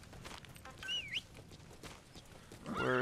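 Horse in the video game Metal Gear Solid V, with a short neigh and soft hoof clops over quiet game ambience. A louder whinny-like call rises near the end.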